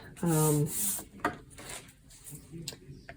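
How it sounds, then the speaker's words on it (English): Tape pulled from a roll and pressed down onto paper starts with a short rasping rip, followed by soft rubbing and light taps up close. "I'm going to tape this down"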